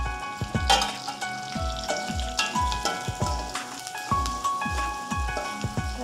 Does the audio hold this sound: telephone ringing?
no